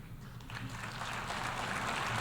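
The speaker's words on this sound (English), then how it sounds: "He's not even getting, like, decent applause." Thin, scattered applause from an audience at a UN General Assembly speech, a steady mid-level patter of clapping that swells slightly and holds without much energy.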